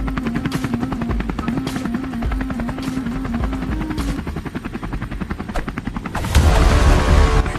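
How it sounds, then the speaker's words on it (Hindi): A helicopter flying, its rotor beating in a steady rhythmic pulse with a tonal line underneath, before a louder, noisier surge near the end. "ये हेलीकॉप्टर कभी भी नीचे गिर सकता है।"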